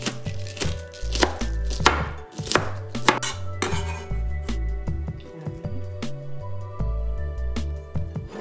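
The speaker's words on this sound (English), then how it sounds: "Cabbage chopped." Cabbage chopped with a knife on a board, rapid repeated thuddy chops in uneven bursts, close and crisp, with some clatter of utensils and no speech.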